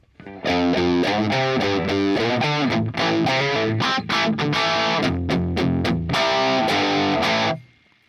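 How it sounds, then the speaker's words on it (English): An electric guitar riff runs through a Helix processor with the pedal off, loud and distorted, with chugging palm-muted notes and choppy stops before a final ringing chord fades. "let me do that riff again with the pedal engaged. Let me do it without that pedal engaged now"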